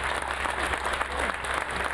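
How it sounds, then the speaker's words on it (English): An audience at a Veterans Day ceremony applauds the Coast Guard, a steady, dense wash of clapping from many hands filling the whole stretch without pause. "let's give them a round of applause"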